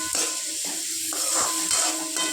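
Bitter gourd fries in a pan over a high flame, giving a continuous bright sizzling hiss with soft stirring scrapes as the pieces are tossed, close and fairly loud.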